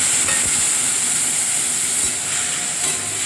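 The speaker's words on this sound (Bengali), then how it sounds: "বেটে রাখা মশলাটা দিয়ে দিলাম।" Ground spice paste hitting a hot pan with pointed gourd, tomato and spices, giving a loud steady hiss and sizzle with a few faint pops, close up and with no voices.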